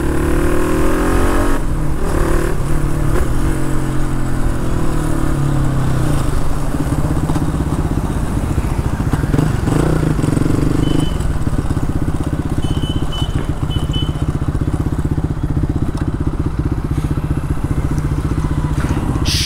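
A Hero XPulse motorcycle fitted with a full-system exhaust rides at low to mid revs, around 2000 to 3000 RPM. A steady, loud engine drone runs throughout with small rises and dips, and no one speaks.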